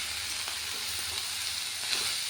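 Vegetables fry in oil tempered with mustard seeds and dry red chili, giving a steady, close sizzling hiss that runs throughout with a few faint pops and no talking.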